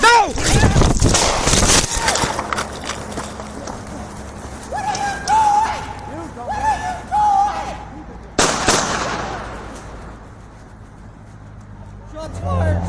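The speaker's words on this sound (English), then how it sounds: "Shots fired! Shots fired!" Gunshots ring out during a tense police roadside confrontation on a highway after a high-speed chase, a cluster of sharp, loud cracks up front followed by shouting voices, a siren-like tone and another sudden bang later.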